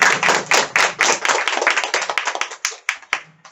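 Audience clapping for a speaker at a business event in a herbal store, a brisk burst of many hands that thins and fades out over a few seconds.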